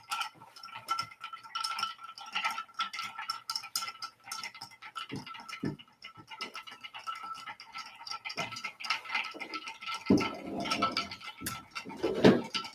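Cocktail stirred with four ice cubes and bitters in a mixing glass, a steady rapid clinking and rattling of ice against glass that continues throughout and grows louder toward the end.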